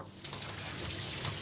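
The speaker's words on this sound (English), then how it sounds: "So this is just to wash away any dust and stour that might be upon the berries, and then drain them very well." Water runs steadily from a tap over gooseberries being rinsed before cooking, a continuous soft splashing rush that holds level for its whole length with no talking.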